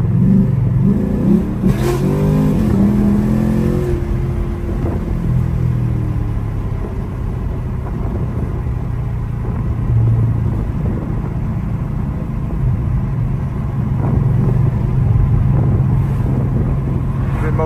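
A cammed Chevrolet Camaro SS 1LE running on E85 accelerates hard through its gears, its loud, deep engine rumble rising and dipping at each shift, heard from inside the car with a faint voice underneath.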